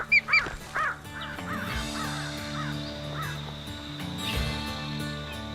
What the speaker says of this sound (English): Brash and bold, a crow makes a hopeful approach.